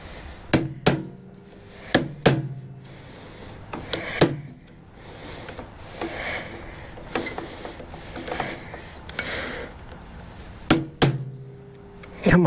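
Sharp metal hammer blows on a stuck part of an Ariens ST824 snow thrower being refurbished, coming in irregular clusters of a few strikes with scraping and handling noise between them.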